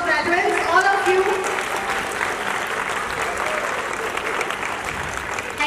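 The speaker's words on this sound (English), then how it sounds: "May I ask you all to put your hands together to applaud the success of graduates, all of you." A graduation ceremony audience at SKSS Dental College in Sarabha, Ludhiana, in 2022 applauds the graduating students: dense, sustained clapping from a large crowd fills the whole stretch evenly.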